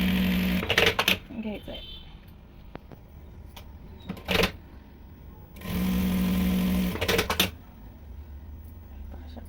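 A sewing machine stitches saree fabric in two bursts, each whirring run a couple of seconds long, with someone talking between them.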